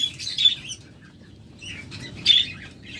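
Caged lovebirds, a breeding pair, give sharp high chirps in two short bursts with quieter twittering between, over a low steady background hum.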